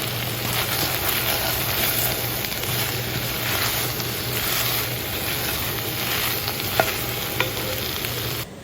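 Garlic, thyme and vegetables for an Icelandic lamb stew sizzle and fry steadily in a Dutch oven, a continuous close hiss with faint stirring scrapes and a couple of small clicks near the end.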